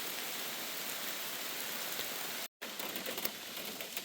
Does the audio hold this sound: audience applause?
no